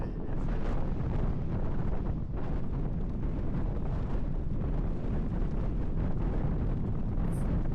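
Strong gusting wind buffets the microphone on the beachfront at Zandvoort, producing a loud, continuous low roar that surges and eases throughout.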